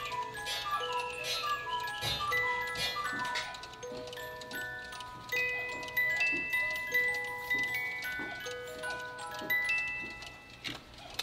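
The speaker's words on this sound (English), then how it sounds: "So these are a one-day musical Cuckoo clocks." A one-day musical cuckoo clock plays its tinkling melody, bright music-box notes ringing in a steady tune over soft ticking, close and fairly quiet.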